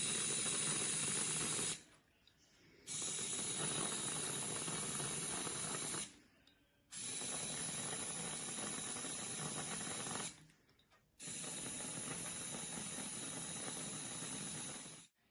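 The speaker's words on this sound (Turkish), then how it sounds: "Ben şöyle üzerine sıvı kremadan şu şekil aparata koydum. Üstüne sıkıyorum." Liquid cream hisses out of a pressurized cream dispenser onto a summer dessert in three long, steady sprays separated by short silences, close and fairly loud.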